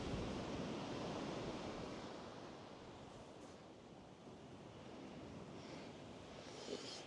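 Slight crosswind blows steadily across Blackpool Sands beach in Devon, a broad constant rush that buffets close to the microphone, with surf noise mixed in and no voices.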